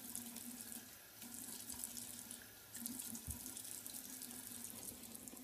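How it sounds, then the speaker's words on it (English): A bathroom tap runs steadily into a sink to re-wet a face before shaving, a continuous close rush of water with small splashes and no voices. "I'm going to go ahead and re-wet my face now so we can get our shave on."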